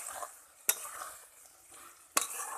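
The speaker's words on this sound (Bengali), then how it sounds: "আরও একবার নেড়ে করে ভালো করে কষে নেব।" Soybean curry with spices cooks in a pan under a soft, low sizzle, broken by two sharp metallic clinks of a spoon against the pan during stirring.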